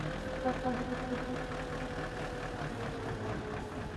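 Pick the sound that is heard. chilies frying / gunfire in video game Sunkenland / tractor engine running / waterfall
tractor engine running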